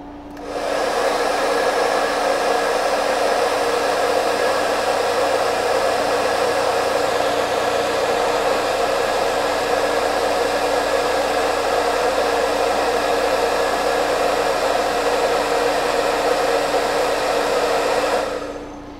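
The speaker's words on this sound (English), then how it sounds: "I'm getting a hairdryer." A hair dryer blows steadily at close range, a constant airy whoosh with a faint motor hum, running unbroken for the whole stretch with no talking.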